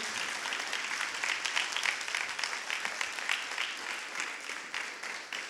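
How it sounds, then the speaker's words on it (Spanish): A church congregation at an Easter Sunday service claps steadily and continuously, a dense wash of applause that holds throughout and eases slightly toward the end. "Dale el mejor aplauso que tengas para Él."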